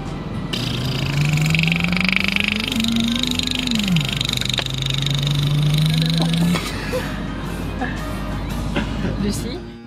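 A child vocally imitates a Harley-Davidson motorcycle engine in a classroom, a loud droning hum that rises, dips and revs for about six seconds before fading into quiet room noise.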